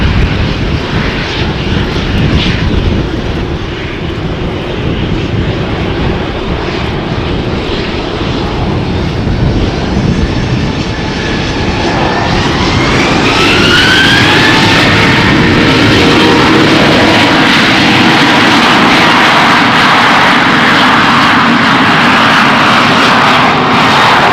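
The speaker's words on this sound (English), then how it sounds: "I can hear the 737 ready to go in front of us" A Boeing 737 jet at Amsterdam Schiphol Airport roars steadily and loud, its engine noise swelling into a rising whine partway through as it powers up on the runway, with no talk over it.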